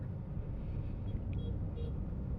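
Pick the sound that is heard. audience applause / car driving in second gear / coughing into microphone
car driving in second gear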